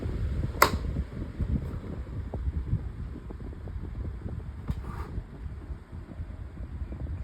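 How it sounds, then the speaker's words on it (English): Climate Keeper 12-inch table fan on low speed, a steady low whirring hum with soft airy rumble, close and even throughout, broken by a couple of faint clicks. "Now I will go ahead and turn it back down to low speed."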